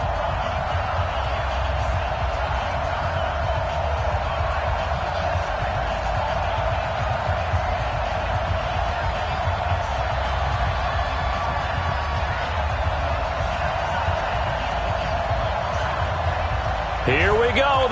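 An NFL stadium crowd at a Minnesota Vikings versus Cleveland Browns game in the final week of the season gives a steady, loud, unbroken roar that holds for the whole stretch.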